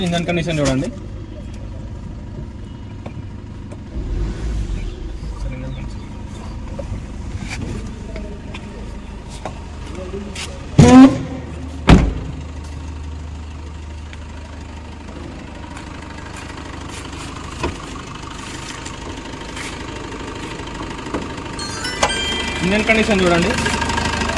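2017 Maruti Breeza LDI diesel engine idling, a steady low rumble running throughout beneath someone talking nearby, with a couple of sharp clunks midway and some rattling toward the end.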